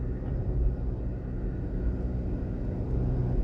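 Road traffic coming off Mandela Highway onto Washington Boulevard in Jamaica, a continuous low rumble of vehicles heard from a distance, steady and unbroken with no talk.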